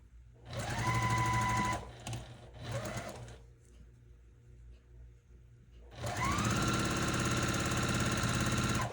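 A sewing machine stitches a layer cake quilt in two long runs, a loud steady mechanical whir with a quieter pause of lighter ticking and handling noise between them, close and without talk.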